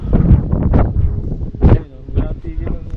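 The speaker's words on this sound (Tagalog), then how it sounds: "Ang lakas na ng hangin." Strong wind buffets the microphone with low rumbling gusts while a person talks over it, on a climb up Jariels Peak.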